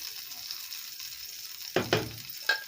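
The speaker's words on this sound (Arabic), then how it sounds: "هنزل عليها على السبانخ زي ما انت شايفه كده. تديها تقليبه كده" Spinach fries in a pot under a constant soft sizzle, broken by a few sharp scraping stirs near the end.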